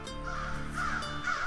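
Crows caw in a series of harsh, repeated calls, fairly close and clear, with no talking.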